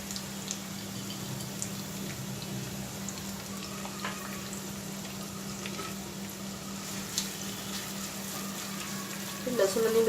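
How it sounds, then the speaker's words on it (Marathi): Onion, garlic and green chili fry in a pan over high heat, making a faint, steady sizzle with a low hum beneath and a slight rise in bubbling near the end. "लसूण आणि मिरची जरा भाजून घेते।"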